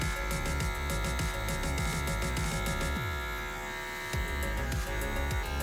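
Electric hair clippers cutting a high taper skin fade around the ear, the lever opened and closed: a close, steady buzzing drone, interrupted by short strokes and a brief dip in loudness.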